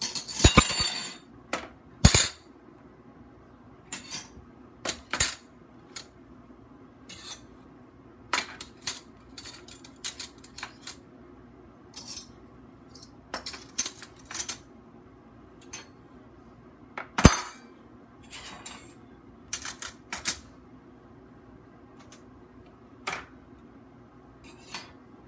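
Metal cutlery and utensils, including butter knives and spoons, clink and clatter as they are sorted, with scattered sharp metallic chinks at irregular intervals over a quiet room, close and fairly crisp, with no talking.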